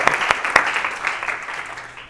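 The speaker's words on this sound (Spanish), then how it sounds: "vamos a darnos un aplauso" A masterclass audience applauds together, a dense steady patter of clapping with a few sharper claps near the start, filling the room at moderate loudness and trailing off slightly toward the end; no talk over it.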